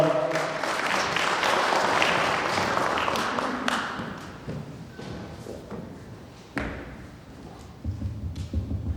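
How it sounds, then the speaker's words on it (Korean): Audience applause for a school principal at a school sports staff training session in Korea, loud at first, then thinning into scattered claps and dull thuds as it dies away. "다시 한번 큰 박수 부탁드리겠습니다."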